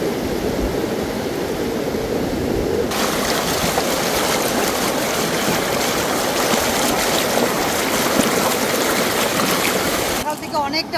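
Strong current of the Damodar river rushing past, a steady loud broadband roar of flowing water that runs for the whole stretch, brightening after the first few seconds, with no talk over it.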